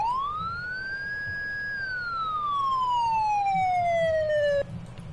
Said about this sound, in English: Let's get the lights going and the sirens. Now this is a pretty loud one here